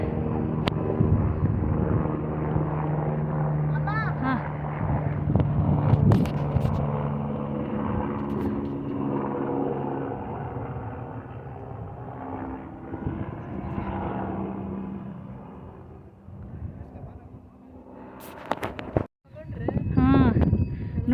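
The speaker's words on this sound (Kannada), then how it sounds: "ಕ್ಯಾಮ್ರಾಗೆ ಹೆಲಿಕಾಪ್ಟರ್ ಹೋಗ್ತಾ ಇದೆ" A helicopter engine drones steadily in the background as it passes near Muktinath temple in Nepal, with people talking over it throughout.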